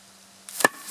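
A single sharp, hard snap rings out after a quiet stretch, a sudden loud clack of a giant crocodile's jaws clamping shut at a crocodile farm, followed by faint rustling.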